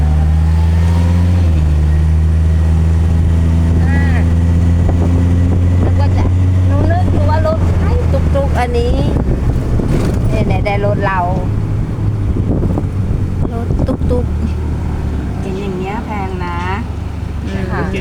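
A tuk-tuk motor drones continuously with heavy wind buffeting the microphone throughout the ride to a market, while people talk loudly over the engine and wind noise.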